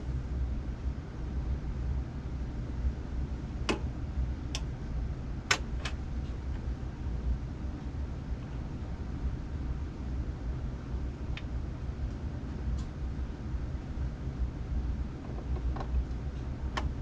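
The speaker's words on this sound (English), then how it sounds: "let's go ahead and play the record" Vinyl record on an Audio-Technica AT-LP60 belt-drive turntable, heard as a steady low rumble and hiss with scattered sharp clicks and pops from the surface, unchanging for the whole stretch without talking.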